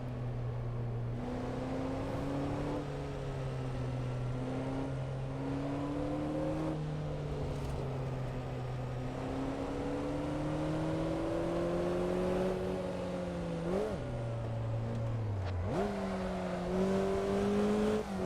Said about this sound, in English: you can be driving around in everybody's favorite little roadster